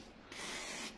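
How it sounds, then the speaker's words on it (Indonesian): One steady hiss of cleaner sprayed from a can onto a Tridentech Silverrays Light fishing reel during servicing, about half a second long and faint. "bisa disemprot-semprot dikit"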